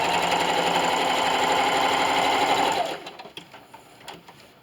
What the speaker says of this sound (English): I'm coming up here on the end and I'm just going to sew right off my project.